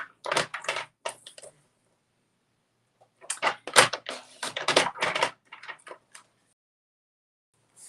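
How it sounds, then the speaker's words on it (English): A paper trimmer slices card panels in short crisp bursts: a few quick cuts, a pause, then a longer run of scraping slices, close and clear in a quiet room. "let's get these panels cut"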